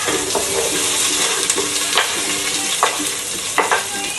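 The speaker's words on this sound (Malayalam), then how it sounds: "സവാള ആഡ് ചെയ്യണം." Onions and masala fry and sizzle in a pan for chicken dum biryani at home, a steady hiss broken by several clattering scrapes of a spoon stirring the pot, close and fairly loud with no talk.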